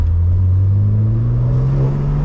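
A modified BMW M4 Competition engine, built to around 900 bhp, revs loudly and close by, a deep steady drone climbing gradually in pitch over a couple of seconds with no voices.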